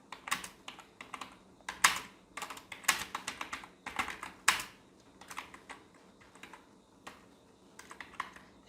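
Keys clatter on a computer keyboard as text is entered in Microsoft Word 2013, in quick uneven runs of clicks with brief pauses, close and fairly quiet, with no one speaking.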